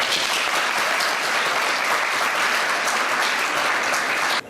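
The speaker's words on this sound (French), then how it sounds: "Je crois que nous pouvons les applaudir et les remercier." A school diploma ceremony audience applauds in a dense, sustained burst of clapping that carries evenly until it stops abruptly at the end.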